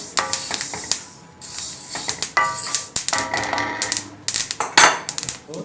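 Sesame seeds dry-roasting in a pan pop and crackle in quick, irregular bursts of sharp taps, close and fairly loud, mixed with the scrape and clink of stirring.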